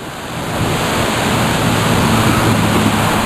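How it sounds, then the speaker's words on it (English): Rushing Niagara River rapids give off a steady, loud roar of churning whitewater that holds at full strength the whole time, dense and unbroken like surf, with no voices. "There's the rapids."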